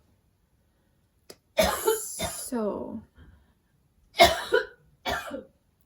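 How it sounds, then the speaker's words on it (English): A mother coughs in the background at home, several harsh bursts in two clusters separated by a short pause, with a brief spoken word near the start. "excuse my mom coughing"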